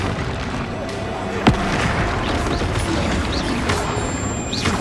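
Spell-casting blasts crash through Hogwarts Legacy combat as a dense, constant roar, broken by one sharp crack near the middle and scattered whooshing magical effects.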